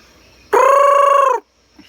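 A single loud, drawn-out red junglefowl call, near and alone, rising sharply and holding steady for nearly a second before cutting off, like a wild rooster's crow.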